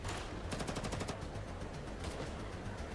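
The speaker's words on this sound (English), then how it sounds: "A volley gunfire and explosions from outside interrupted the host's opening remarks." A volley of gunfire in the Girls' Frontline 2 video game, a rapid rattling burst of automatic shots at a distance over a steady low rumble, quiet and with no voices.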